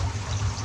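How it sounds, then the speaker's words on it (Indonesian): Water pours steadily onto a sawi (mustard green) seedbed during watering, a brief, continuous splashing hiss over a low hum, close and even, with no talking. "kita siram pinggir-pinggirnya ya"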